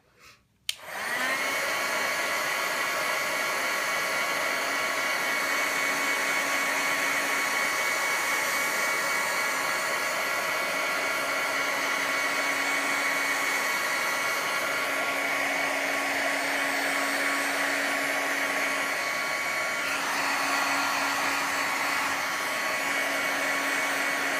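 A hair dryer drying paint switches on and runs steadily with a loud, continuous whirring roar that holds for over twenty seconds.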